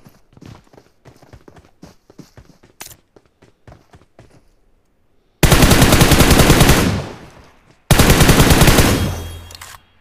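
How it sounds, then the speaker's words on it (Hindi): Gunfire in the shooter game PUBG Mobile: scattered light clicks and taps, then two loud, close bursts of rapid automatic fire, each lasting a couple of seconds, with no talking. "अपार्टमेंट से कोई स्नाइपर से मार रहा है"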